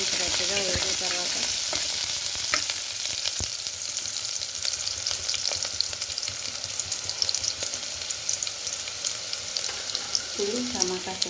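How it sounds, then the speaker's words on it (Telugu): Onions fry in hot oil in a pan on a stove, a dense continuous sizzle that stays loud and even throughout, with occasional faint clinks and no talk. "ఆయిల్ పోస్తున్నాను. ఆనియన్స్ వేసుకున్నాను. ఆనియన్స్ గట్టిగా వేగిన తర్వాత"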